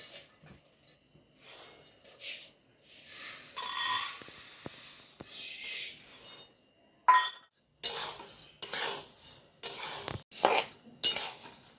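Jowar grains are dry-roasted in a kadai and stirred, giving intermittent bursts of metallic scraping and clinking separated by short quiet pauses, close and fairly loud.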